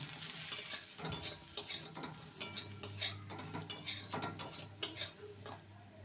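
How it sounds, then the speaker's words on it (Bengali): Brinjal pieces fry with turmeric powder in a pan, a quiet sizzle under repeated scraping and clinking of a spoon against the metal, with irregular stirring knocks throughout. "আর সামান্য হলুদ গুঁড়ো বেগুনটাকে ভেজে নেব"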